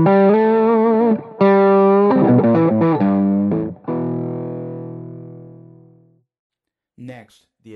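A distorted electric guitar runs through an amplifier with the Ultimate Attenuator, cutting it to conversation level: a few overdriven chords, then a long chord that fades to silence, followed by a short burst of talking.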